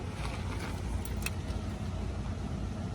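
A 2004 or 2005 four-door rollback truck with a 6.0 engine runs steadily, a continuous low rumble holding close and even throughout, with a brief faint metallic jingle partway through.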